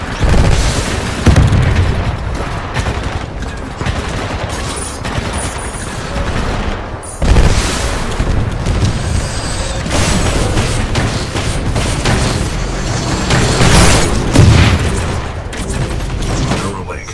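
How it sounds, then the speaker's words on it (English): A shoulder-mounted rocket pod on a Titan in Titanfall 2 fires and its rockets explode: dense, loud booming volleys with a rumbling low end, one heavy blast partway through and another surge near the end, continuous battle noise throughout. "Shoulder-mounted rocket pod will lock onto multiple enemy targets."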